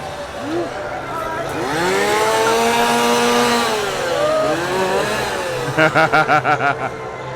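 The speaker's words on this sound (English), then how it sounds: "We got the chainsaws." A loud chainsaw engine revs up and down in long swells, then finishes with a quick run of sharp throttle bursts amid background crowd noise at a Halloween Horror Nights scare zone.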